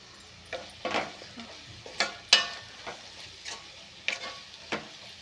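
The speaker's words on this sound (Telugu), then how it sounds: "క్యాప్సికమ్ నువ్వుల పౌడర్ డీప్ ఫ్రై అయితే అయిపోయింది." Capsicum fries in a pan with sesame powder, a faint sizzle beneath irregular scraping stirs, about eight soft strokes across a few seconds, close and quiet.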